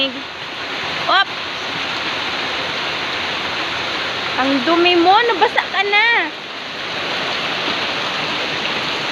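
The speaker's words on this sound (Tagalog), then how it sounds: "Ang lakas pa ng ulan, grabe." Heavy typhoon rain pours steadily, a loud, constant hiss throughout, while a person talks and another voice rises in a short excited call over the downpour.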